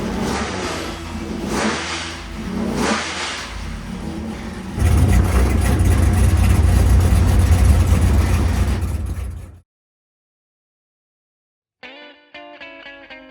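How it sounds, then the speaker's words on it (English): A rebuilt car engine runs loud and close, first with rough revving pulses, then a heavy steady idle that cuts off abruptly into silence before an unrelated tonal sound begins. "the engine idles with 77 pounds of oil pressure"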